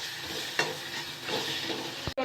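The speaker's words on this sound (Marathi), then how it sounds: "चांगले परतून घ्यायचे तेलामध्ये" Sambar masala sautés in hot oil with a dense, close sizzle and a couple of quick spatula scrapes through the pan, briefly cutting out near the end.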